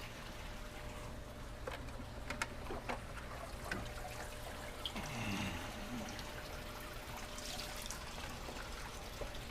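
Water trickling and dripping into the sump of an 800-gallon outdoor pool pond, a steady faint pouring with scattered small drips against continuous low background hum.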